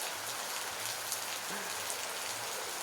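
Rain falls steadily, a soft even patter heard quietly and alone, with no talking.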